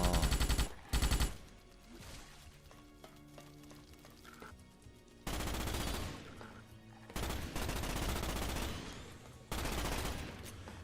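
Gunfire aimed at the player in the 2006 Starship Troopers video game, bursts of rapid shooting cutting in and out over a dense, loud game soundtrack and effects.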